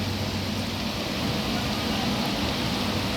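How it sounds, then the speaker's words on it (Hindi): Heavy rain falling in Mecca, heard from inside a room through a window, a dense steady roar of downpour that stays loud and even throughout with no voices. "कितनी तेज़ बारिश हो रही है"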